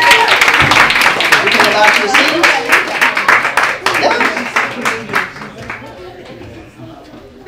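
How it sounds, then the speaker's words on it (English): Audience applause at a show rises loudly at the start and fades out over several seconds, with people speaking over the clapping. "Please give him a round of applause."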